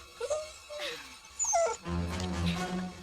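A dog whimpers and whines in several rising, wavering cries at close range, then a low sustained moan takes over.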